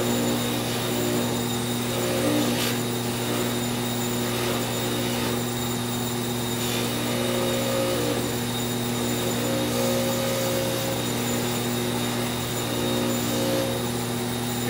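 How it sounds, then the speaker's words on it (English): A buffing wheel hums steadily while polishing a forged bracelet, a constant motor drone with a faint shifting whine as the metal is pressed against it. "I like to use the buffing wheel"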